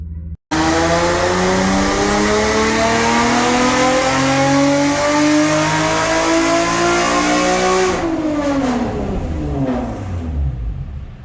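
A 2015 Infiniti Q50 fitted with headers and a full dual exhaust revs hard, its loud engine note climbing steadily for several seconds before dropping off, close and raspy with no talking.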